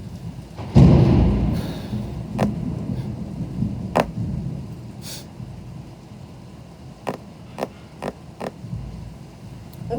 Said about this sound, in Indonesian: Bener-bener heboh banget kan geledek.